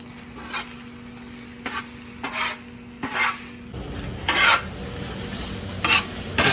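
Eggs and bacon tossed and stirred on a Blackstone griddle, a soft sizzle broken by repeated metal spatula scrapes and taps against the flat top, close and fairly quiet, the sizzle growing fuller toward the end.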